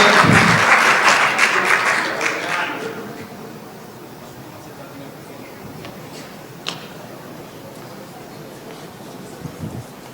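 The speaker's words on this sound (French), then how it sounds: "Applaudissez pour M. Keita." Crowd applause at a year-end ceremony for foreign students in Bejaia, loud for the first few seconds then fading out, leaving a quiet room with a few faint knocks and shuffles.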